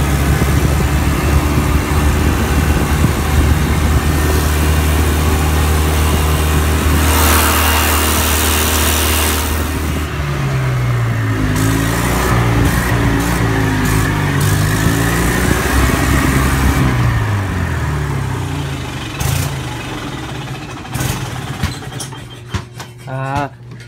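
A golf cart engine revs and accelerates, then the drone drops and rises again as a gear shift comes in. The motor hums steadily throughout, with a few short clatters near the end.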